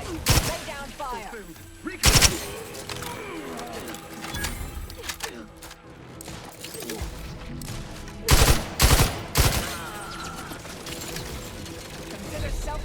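Gunfire in the sci-fi shooter The Outer Worlds 2 comes in several loud, close bursts, scattered across the stretch and separated by game ambience and mechanical clatter.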